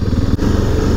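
Motorcycles riding along a village road in Bulgaria, a steady mid-pitched engine drone held close and loud with a brief dip partway through.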